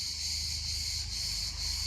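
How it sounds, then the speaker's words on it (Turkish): A steady, loud drone of cicadas with a high, buzzing shimmer, pulsing slightly every half second or so, continuous throughout with no voices. "Evet Ağustos böcekleri konser veriyor"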